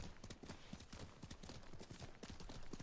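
Horse hooves clip-clop steadily at a trot in Ghost of Tsushima on PS4, a quiet, continuous rhythmic patter of game footfalls.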